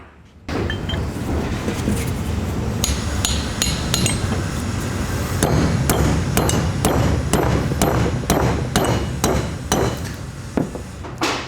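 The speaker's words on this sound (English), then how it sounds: "then you tap these brackets on" Lift kit brackets being hammered onto the torsion key of a 2020-or-later GM 2500 truck, a rapid series of sharp metallic taps, close and loud, picking up pace toward the end.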